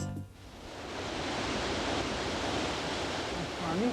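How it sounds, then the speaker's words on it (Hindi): Heavy rain pours in a broad, steady hiss of water with no break, loud and continuous, as a faint voice rises briefly near the end. "पानी बहुत बरस रहा है।"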